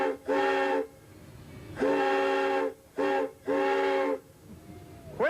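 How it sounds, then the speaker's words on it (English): Steam whistle on a factory-style setting blown in four separate blasts of varying length, loud and close with a rich harmonic tone and breathy hiss, short pauses between them and no voices. "Well, let's blow the whistle."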